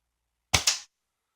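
A K'nex toy air gun with a working suppressor fires a rod, giving one short, sharp crack with a quick double snap, alone in silence.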